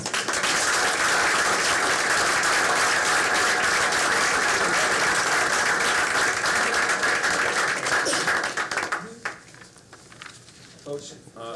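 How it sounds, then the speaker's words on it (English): An audience at a school board meeting gives a sustained round of applause, dense clapping that fades after about nine seconds into scattered claps and murmuring. "Folks, a hearty round of applause."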